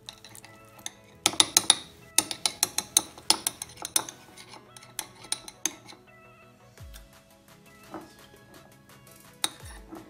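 Metal spoon scooping German caviar and clinking against a container while a smoothie is prepared, a rapid series of sharp close clinks and scrapes that thins into sparse taps.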